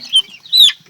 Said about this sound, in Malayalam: അത് നാടൻ കോഴി.